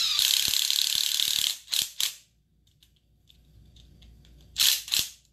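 Screws being tightened on the brakes of a 1/8 scale RC car, heard as a close, loud run of rapid ratcheting clicks from a hand tool, then a pause and a couple of shorter ratchet bursts.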